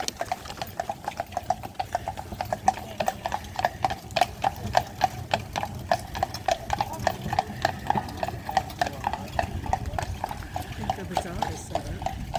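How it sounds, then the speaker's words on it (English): Horses' hooves clip-clop steadily on a street in Colonial Williamsburg, a rhythmic, moderately close clatter that continues throughout while people talk nearby. "Look at the horses clip-clopping."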